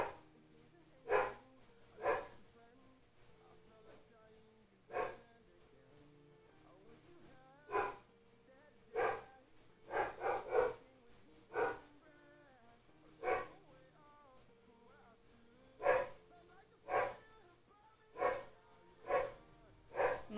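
A dog barks in short single and paired bursts at irregular intervals, moderately near, over a quiet indoor room.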